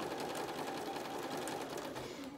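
A sewing machine runs continuously as it stitches rows on a fabric face mask, a quiet, even whirring rattle heard alone without speech.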